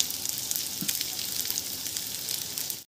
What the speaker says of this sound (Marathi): आता तेलामध्ये जे मोठे कापलेले कांदे होते ना ते आपण भाजून घेऊया.